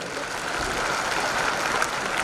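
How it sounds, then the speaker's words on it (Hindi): An audience at an Amway diamond recognition event claps loudly together, a dense and sustained wash of applause that stays strong for the whole stretch, with no voices heard over it. "जोरदार ताली बजा सकते हैं उन सबके लिए।"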